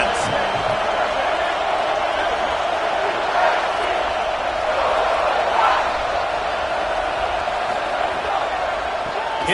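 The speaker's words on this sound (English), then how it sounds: "Listen to this crowd just shaking the girders of this place" A roaring stadium crowd at a football game, a dense, steady wall of cheering that holds loud throughout with faint swells and a commentator's voice underneath.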